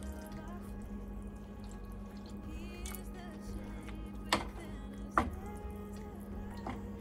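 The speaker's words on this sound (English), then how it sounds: "All right, we're gonna add in some water." Water pours into a cooking pot of stirred pantry ingredients on the stove. It makes a steady, moderately soft liquid flow with a few drips and light knocks over a constant low kitchen hum.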